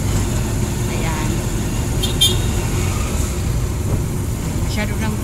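Steady roar of busy road traffic in 13 Martires, with cars and larger vehicles streaming past close by, a continuous engine and tire wash with a few brief louder passes.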